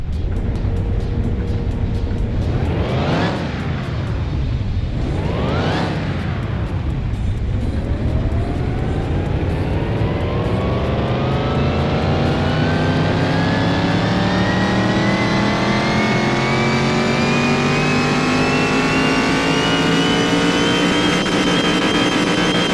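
A car engine revs on a dyno in Car Mechanic Simulator 2021: two quick rev blips rise and fall, then a long sustained pull climbs steadily in pitch, loud and close with no talk.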